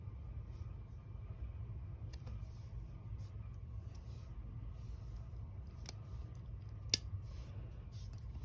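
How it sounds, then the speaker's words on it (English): Scissors snip off excess yarn while finishing a crocheted beanie, giving a few faint, sharp clicks spaced several seconds apart over a steady low background rumble. "I'm gonna just like cut it off and weave the rest of it in"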